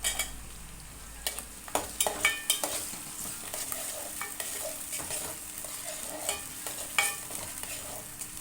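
Sprouted green gram palya frying in a pan as tomatoes go in, with steady soft sizzling and repeated scraping strokes of a spoon stirring, louder clatters near the start.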